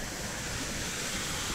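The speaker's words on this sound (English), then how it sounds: "It's a nice waterfall." Water from a pool waterfall at a Hua Hin beach lodge pours in a steady, even broadband rush that fills the short stretch without a break, with no voices over it.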